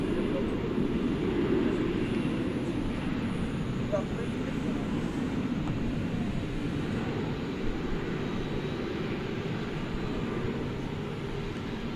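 Airliner flying at DFW Airport on a flight to Hong Kong, a steady, broad low engine roar that holds evenly throughout, moderately distant and unbroken.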